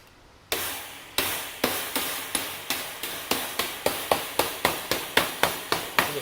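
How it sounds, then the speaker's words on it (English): Staples are hammered into wire on a wooden rabbit hutch, a run of sharp, close taps, about a dozen in quick even succession after one isolated strike. "I'm hammering in these staples and bending the wire as I go."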